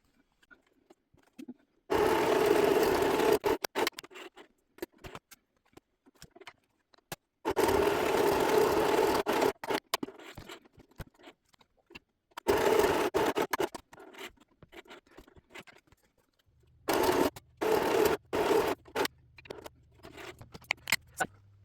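Sewing machine stitching lines across paper in four separate bursts with quiet gaps between them; the needle punching through paper gives a close, scratchy, rapid rattle, and no one speaks.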